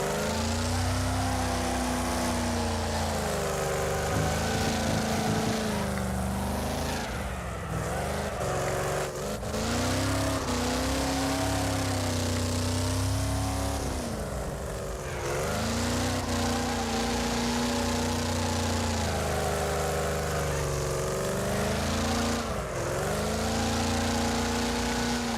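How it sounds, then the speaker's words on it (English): A race car's engine in the video game Wreckfest roars loudly and continuously, its pitch climbing and dropping with repeated revving and gear shifts, close and unbroken for the whole stretch. "The engine in this thing is fucking loud."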